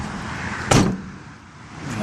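A brand new van's door shuts with one sharp, loud thud at a road vehicle, standing out briefly against steady background noise.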